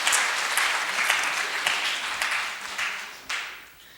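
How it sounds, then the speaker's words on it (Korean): A church congregation gives a brief round of applause for an elderly woman during a Korean Bible study revival meeting, with dense clapping and sharp accents that fade over a few seconds. "우리 박수 한번 쳐줍시다."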